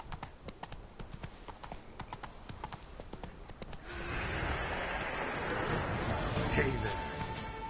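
Hooves of a horse clip-clop in a steady rhythm in The Witcher 3, the hoofbeats clear for the first few seconds before a louder wash of ambient game noise and a voice take over.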